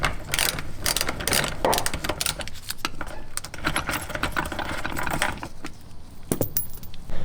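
A ratchet works the rear seat bolts out of a Mitsubishi Evo 9 interior, rapid clicking pawl bursts with metallic jangles, close and loud, pausing briefly between strokes.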